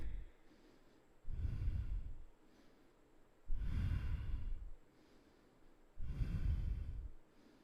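Slow, deep yoga breaths in a guided flow class: three long, audible breath cycles, each a loud, airy rush near the microphone with quiet pauses between, and no talking.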